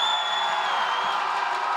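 A large arena audience at an IPL 5 League of Legends esports match between CLG EU and Taipei Assassins cheers continuously, a broad, steady roar of distant voices without individual talk.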